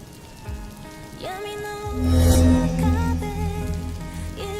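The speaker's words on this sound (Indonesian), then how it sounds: "Ya, hujan, Seng." Rain pours steadily in the Sakura School Simulator game, a continuous hiss of drops on surfaces that swells louder midway, layered under game music tones.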